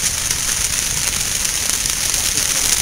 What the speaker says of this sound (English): We're looking at a fire that was set closest to the berm by the Wakarusa banks.